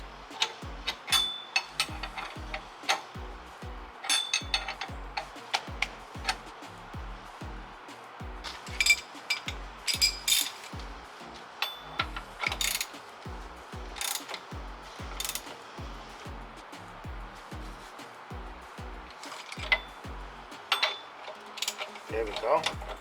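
A ratchet wrench tightens a bolt on a Nissan 350Z brake hub during a big brake kit install, giving rapid repeated clicking bursts in steady strokes throughout, close and moderately loud, with metallic clinks between.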